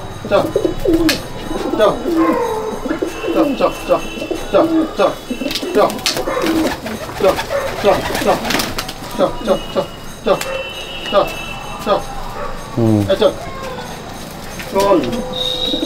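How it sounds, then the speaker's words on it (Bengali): Pigeons coo repeatedly as a flock is carefully ushered into an unlocked netted loft after a pigeon flying competition in Baruipur, with someone talking over the birds and occasional fluttering and shuffling nearby. "এই সব পায়রা ঢুকে গেল"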